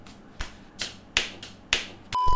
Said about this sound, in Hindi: चुटकी ऐसे बजाता है।